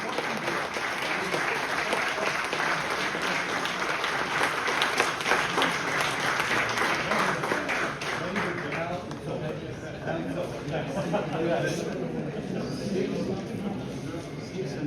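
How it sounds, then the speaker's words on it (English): An audience at the closing session of a university conference claps in sustained, dense applause for many seconds, loud and even, thinning slightly toward the end. "So a huge round of applause, everyone."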